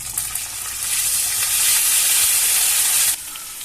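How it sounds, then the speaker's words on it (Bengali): Ginger-cumin paste hits hot oil tempered with fresh bay leaves for a cauliflower dal, giving a loud, close sizzle that swells, holds steady, then drops off sharply. "এবার দিচ্ছি আদা জিরে বাটাটা"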